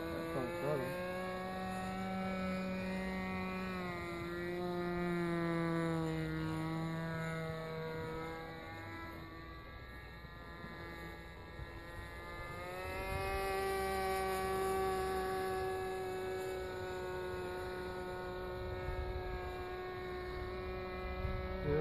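A SPAD FNS40 model airplane engine screams at full throttle in flight, a steady high-pitched buzz that rises and falls in pitch as the plane passes, continuous with no talk.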